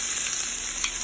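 Hot oil in a pan sizzles with a steady, even hiss, ready for a cup of chopped onion, with a faint scrape or two partway through and no voices.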